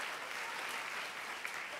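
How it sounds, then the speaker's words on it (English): A theatre audience at a live storytelling show applauds in a steady, dense wash of many hands, heard from some distance and fairly faint, with no voices over it. "Of course, they're applauding the word mystery."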